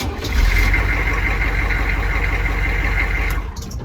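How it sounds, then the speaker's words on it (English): A Torque N 4x4 rig with 37-inch tyres, bead locks and portal axles starts its engine and settles into a loud, steady idle. The rumble is close and continuous, with a rough, throbbing low end. "I like the engine noise too."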